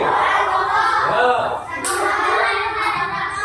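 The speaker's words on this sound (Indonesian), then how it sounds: "Tepuk tangan untuk Sulaiman." Classroom of fourth-grade children clapping their hands together, a loud busy patter of many hands with children's voices mixed in throughout.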